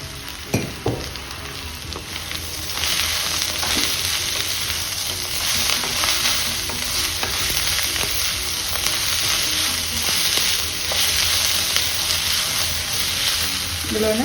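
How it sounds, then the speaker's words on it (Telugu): Broad beans added to onions frying in a pan, a brief clatter and knock followed by a sustained close sizzle with occasional stirring scrapes, steady and loud for the rest of the stretch. "చిక్కుడుకాయలు ఉన్నాయి కదా, ఇందులో వేసేస్తున్నాను"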